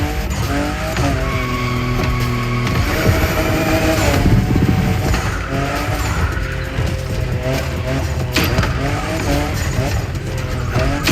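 A fifth-generation Toyota Supra sports car in the racing game The Crew Motorfest, its engine roaring steadily with repeated tire squeals and skids as it drifts, loud and continuous alongside game music.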